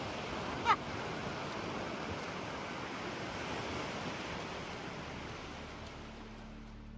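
Water surges and washes along a river after something big falls in, a steady roaring rush with a brief thump near the start that slowly eases off.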